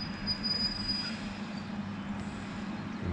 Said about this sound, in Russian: А вот электричка, на которой мы вчера приехали.